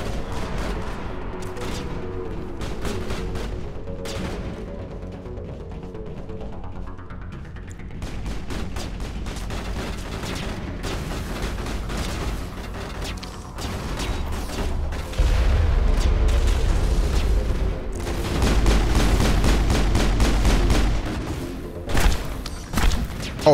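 Sustained gunfire in the video game Mass Effect, dense rapid bursts and heavy booms running almost continuously, loud and layered with deep thuds toward the end.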